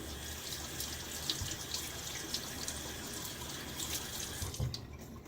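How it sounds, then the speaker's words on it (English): Cold tap water runs continuously into a sink as water is splashed on the face before a shave, a steady close wash of splashing with a few brief drips and knocks, no voices. "a little water on the face."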